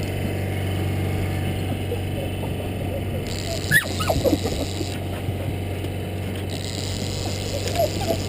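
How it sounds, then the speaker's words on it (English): An excited puppy whimpers and yips aboard a salmon fishing boat on the Columbia River, short high whines over a steady low engine hum, close by and intermittent. "Got a pretty excited little puppy dog running around."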